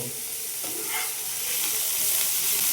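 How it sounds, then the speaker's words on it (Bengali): Corn chaat ingredients, carrot among them, fry lightly in a pan with a gentle steady sizzle and hiss, plus a few faint stirring scrapes. "খুব একটা মানে কড়া ফ্রাই করব না, হালকা ফ্রাই করব।"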